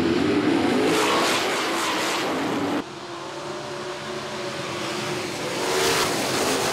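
Sprint cars roar off the start of an ASCS A feature race at Salina Speedway, a loud, steady engine drone that shifts abruptly midway and swells again near the end, with no voices.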